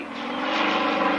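A vintage aircraft powered by a 360 horsepower radial engine, a rugged short-takeoff plane flying at the 1994 Great Warbirds Airshow at Wroughton Airfield, gives a steady, rough droning roar that swells slightly louder as it passes.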